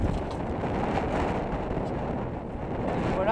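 Wind buffets the microphone aboard a sailboat on a solo passage, a continuous loud broadband roar with gusty swells throughout and no speech.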